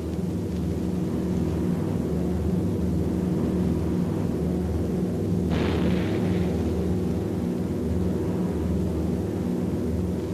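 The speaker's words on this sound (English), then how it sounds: "the enemy knows the path of your approach and walls that path with a flak barrage, but you fly right through it" Dull flak explosions burst around a B-17 Flying Fortress in flight, a muffled boom rising over the bomber's constant droning engines, which hum steadily underneath throughout.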